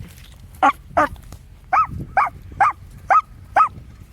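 A person in a wood imitates a dog's bark, giving seven short, evenly spaced woofs in a steady rhythm, fairly close and clear.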